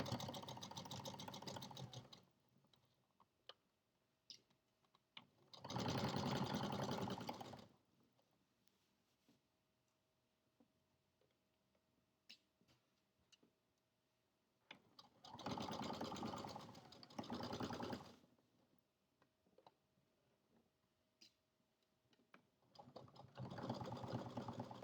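Sewing machine stitching the inside leg seam of pajama pants, running in three or four steady bursts of several seconds each, separated by quiet pauses with faint handling sounds, and no talking.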